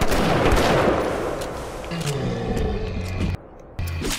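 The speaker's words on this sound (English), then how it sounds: "Shotgun." A shotgun blast in BioShock, a loud booming burst at the start that decays into a rumbling tail, with game sounds and a low hum continuing after, under faint talk.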